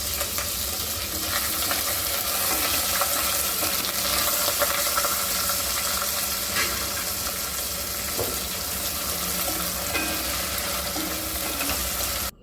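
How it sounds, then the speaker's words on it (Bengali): Onions frying in a pan for mutton bhuna khichuri, a dense, steady hiss and crackle of sizzling oil running continuously at close range. "পেঁয়াজের কালার চেঞ্জ হওয়া পর্যন্ত আমি এটাকে ভাজবো।"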